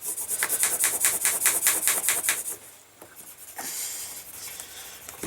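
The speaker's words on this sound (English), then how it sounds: "I like to give this just a little burnish" A burnishing tool rubs along the edge of a leather belt keeper in quick, rhythmic back-and-forth strokes, close and fairly soft, then stops and gives way to a few quieter rubbing sounds.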